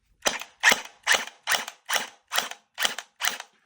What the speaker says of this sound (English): this is an electric pistol. So it's going to sound clunky.